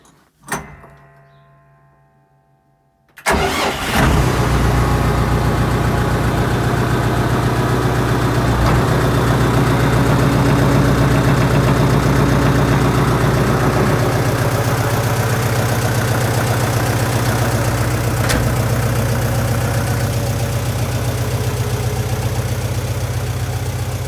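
A diesel tractor engine turns over and catches after a cold start on a frosty morning, then settles into a loud, steady, throbbing idle that runs on alone without a break.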